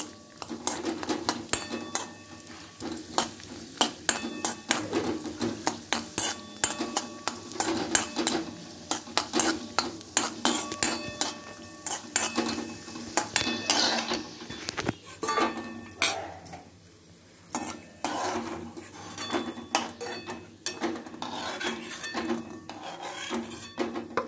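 Semiya (vermicelli) roasting in a pan with repeated stirring, a steady scrape and clink of utensil against metal over a light sizzle, close and fairly loud, with no talk.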